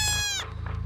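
A single goat from a herd of 150 gives a close, loud, wavering bleat that cuts off abruptly, followed by faint background noise.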